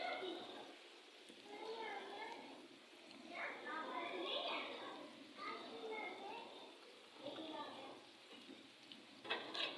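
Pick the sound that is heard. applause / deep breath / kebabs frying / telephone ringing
kebabs frying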